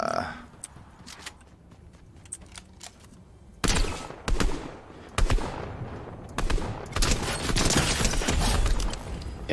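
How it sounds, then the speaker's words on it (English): Fortnite video game gunfire, with rapid machine-gun bursts and scattered shots that grow denser and louder toward the end. It plays under a player's talking and constant game background noise. "So somebody was shooting at him."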